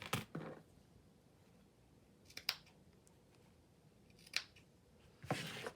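Several crisp scissor snips trim thin cellophane, spaced a second or two apart, quiet and close, with near silence between cuts.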